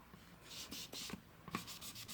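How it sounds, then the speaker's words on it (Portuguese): Soft pastel chalk rubbed back and forth over paper to fill a brick pattern, a quiet dry scratchy rubbing with steady strokes and a few light taps, close and alone. "vou passando por cima desses tijolinhos com o giz pastel"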